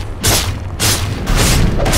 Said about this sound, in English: The enemy's middle tower has been destroyed.